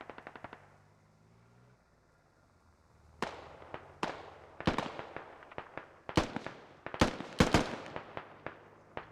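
Tank cannon and gunfire in the military shooter Squad: after a quiet start, a run of sharp, loud blasts and rapid cracks at irregular intervals, some in quick clusters, with no talk.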